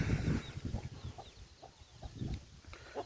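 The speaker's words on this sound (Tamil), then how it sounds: "நம்மக்கிட்ட இருக்கிற 2வது கோழி குஞ்சு வந்து இருக்குது." On a small farm, a hen clucks in short, repeated bursts near at hand while her chicks give faint, high peeps in between.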